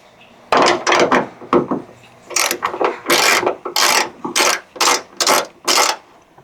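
A ratchet wrench cranks to tighten a bolt on a ditch light bracket, with clusters of sharp clicking strokes in uneven bursts, close and fairly loud, and no talking.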